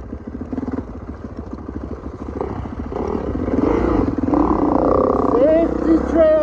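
Four-stroke thumper dirt bikes ride a California trail, their low pulsing engine note building louder and revving higher over several seconds, with a voice speaking over the start.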